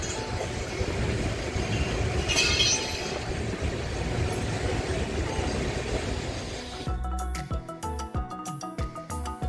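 HWH LKU Express rolling through Sasaram station, a loud continuous rumble of wheels and carriages heard from on board, shifting near the end into sharp rhythmic clacking over rail joints.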